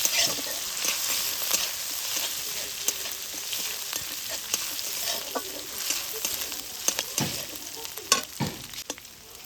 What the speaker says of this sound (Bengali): লঙ্কা কুচি দিয়ে দিচ্ছি লঙ্কা আর আদাটাকে হালকা একটু ভেজে নেব